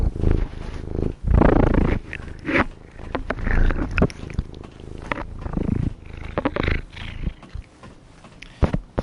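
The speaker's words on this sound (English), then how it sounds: "Mine's involving a cat trying to chew on a microphone." A cat right against a microphone makes loud rumbling, chewing and rubbing noises in uneven bursts and close thumps, with brief quiet gaps between them.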